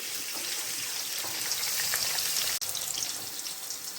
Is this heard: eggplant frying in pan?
yes